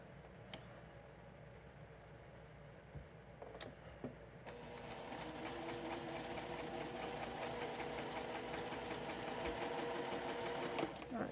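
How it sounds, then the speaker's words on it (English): A sewing machine stitching a quilt block runs quietly at first with a few clicks, then settles into a steady, louder whirring stitch rhythm for the rest of the clip, close by and continuous. "Now what I'm going to do is sew just one thread to the outside of this line."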